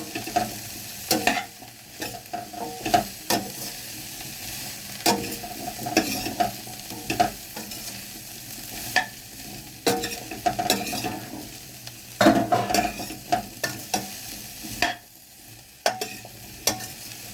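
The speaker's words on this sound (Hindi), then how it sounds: "अब इसको डाल के भी हम इसको मिला देते हैं चलाते हुए।" Cauliflower with turmeric being stirred and fried in oil, a steady sizzle broken by repeated rhythmic scrapes and clatters of the spoon against the pan, close and fairly loud, with no speech.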